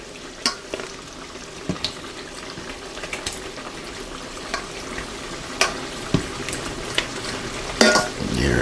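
About 1.5 pounds of shrimp cooking in a pan of Jamaican-style curry, giving a continuous sizzle and bubble broken by intermittent clinks and scrapes of stirring, growing busier toward the end.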